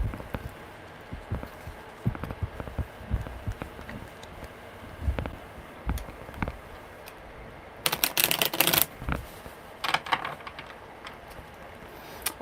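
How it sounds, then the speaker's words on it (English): Tarot cards are being shuffled by hand at a live reading, with soft, irregular riffles and taps. A denser, brighter burst of shuffling comes near the end. No one speaks. "All right, one more good shuffle."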